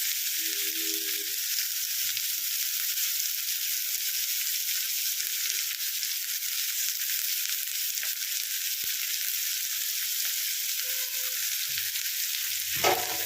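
Steady, dense sizzling of finely chopped onions frying in hot oil throughout, with a few faint clinks of a utensil and a stir near the end.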